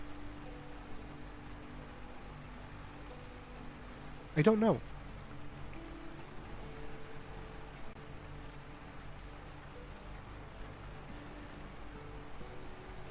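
Soft, steady rain in the video game Lightyear Frontier, a faint hiss under gentle sustained music, briefly interrupted by a short spoken remark.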